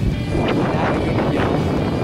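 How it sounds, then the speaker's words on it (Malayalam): Strong wind buffets the microphone during an outdoor ride in Kerala, a loud steady roar filling the whole stretch with no clear speech. "കാറ്റ് ഞങ്ങളുടെ മുന്നോട്ട് വീശിയാണ്"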